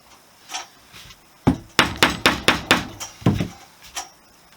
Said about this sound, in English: the wooden mallet's face itself is actually doing a really good job at supplying even pressure.